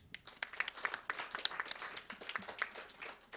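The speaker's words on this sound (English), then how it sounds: "Should we give them a little round of applause?" Audience applause at a Thursday night live music show at Uptown Bill's, steady crowd clapping for a few seconds at moderate level.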